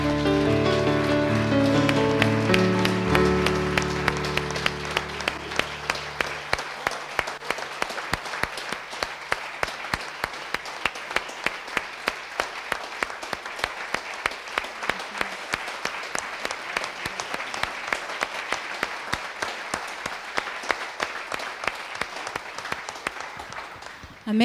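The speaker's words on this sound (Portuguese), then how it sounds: "Dê uma linda salva de palmas a ele" Church congregation applauding together at a Sunday service, a dense, steady wash of clapping that carries on for the whole stretch, opening over fading music and gradually thinning toward the end.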